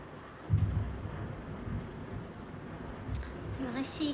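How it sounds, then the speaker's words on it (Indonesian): Rain falling steadily with low rumbling thunder during an evening storm, a soft wash of noise with a deeper roll early on, heard indoors at a distance with faint indistinct voices. "ini sekarang lagi hujan"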